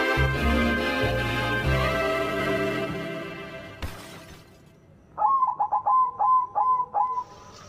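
A perkutut zebra dove gives a quick run of short, rhythmic coos, loud and close, after a stretch of louder tonal sound and a sharp knock.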